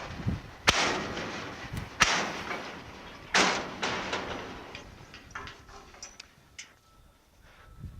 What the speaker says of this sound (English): I'm going to demonstrate how this gate will sweep around, and you'll hear how quiet it is as well